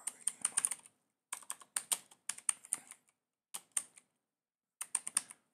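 Typing on a computer keyboard in short bursts of rapid clicking keystrokes separated by pauses, close and crisp.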